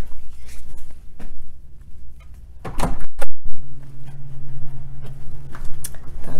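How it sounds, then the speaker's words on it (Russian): A hotel room door in Reno, Nevada closes automatically with a loud thump and latch click, set among footsteps and scattered handling noises nearby. "дверь автоматически закрывается"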